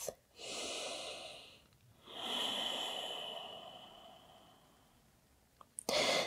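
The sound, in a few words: deep breathing during yoga forward fold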